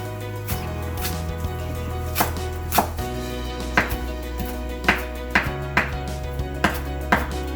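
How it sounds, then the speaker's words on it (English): Knife chopping fresh cilantro leaves on a cutting board for tomatillo pico de gallo: sharp, close, irregular chops, some single and some in quick pairs, over a low steady background hum. "we're gonna chop some cilantros here to add some flavors to the dish"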